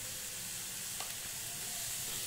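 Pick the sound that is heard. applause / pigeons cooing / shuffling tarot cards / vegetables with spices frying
vegetables with spices frying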